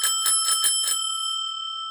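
Handlebar bell on a vintage Union bicycle rung up close: four quick rapid strikes in a burst, then a clear metallic ring decaying alone for about a second.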